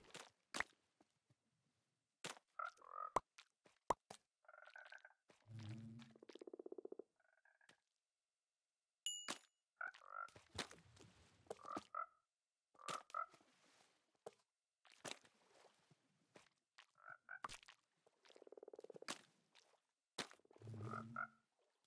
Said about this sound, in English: All right, we got the frogs bred.